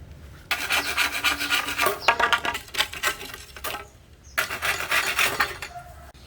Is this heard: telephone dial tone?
no